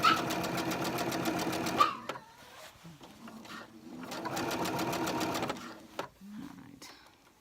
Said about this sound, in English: And I will sew over the top of the edge here of what I've done.